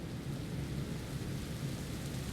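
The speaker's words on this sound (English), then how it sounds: "Oh no, it's starting to rain." Steady rain and low rumbling thunder from a thunderstorm in the police management game This is the Police, a continuous dense wash with no pauses and no voices.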